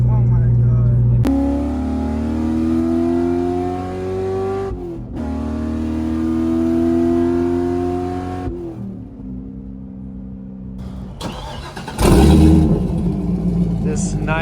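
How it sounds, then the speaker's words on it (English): A supercharged LS3 Corvette with headers, tuned to 608 wheel horsepower on 9 pounds of boost, pulls away from a shop in loud rising gear pulls with brief shift breaks, ending in a burst of noise and voices. "This nice Corvette is leaving the shop"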